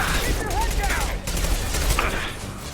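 Rapid bursts of gunfire in the sci-fi shooter game Mass Effect 2, crackling in quick volleys amid a busy combat soundscape, with a voice murmuring faintly beneath.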